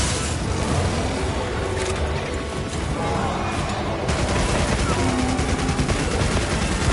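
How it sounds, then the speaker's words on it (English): A super cannon fires in the Monster Hunter Wilds video game, loud rapid repeated blasts and booms filling the whole stretch without pause. "here comes the super cannon"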